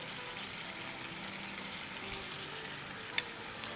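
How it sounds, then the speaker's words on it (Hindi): Chicken pieces hiss in a hot pan over medium flame for a Middle Eastern biryani, a steady, close, even sizzle with one sharp click near the end and no voices. "अब डाल देंगे चिकन इस पर।"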